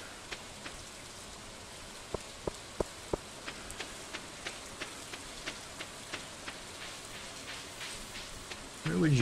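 Rain pattering steadily in the video game Stardew Valley, a soft hiss with regular crisp tick-like drips spaced through it, and a brief louder sound near the end.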